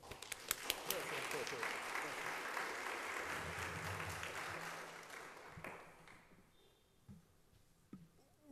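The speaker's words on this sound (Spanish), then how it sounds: "al doctor Luis Núñez Bertoldo, a quien recibimos con un fuerte aplauso." Audience applause greets a doctor arriving to give a talk at a school event, a dense burst of clapping that fades out over several seconds into near quiet.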